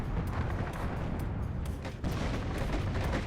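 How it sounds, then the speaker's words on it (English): Grenade launchers firing during a WARNO battle, a dense barrage of overlapping booms and cracking bursts over a constant heavy rumble, loud and continuous like sustained artillery. "Here we go with all of those grenade launches."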